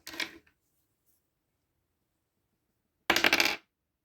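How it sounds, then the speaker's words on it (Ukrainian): A die is rolled twice for a cross-stitch embroidery board game. A short clatter comes at the start, then after about two and a half seconds of silence a louder, longer rattle of the die tumbling across a hard surface. It is close, with no talk. "Забула кинути кубик."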